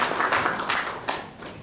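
Audience clapping for a speaker at a thyroid ultrasound lecture during a medical symposium in Seoul, a dense, steady patter of many hands that holds at even loudness throughout without tailing off.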